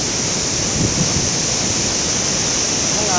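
Water released from Somasilla Dam rushes in a loud, steady broadband roar with no letup, close and unbroken from start to end.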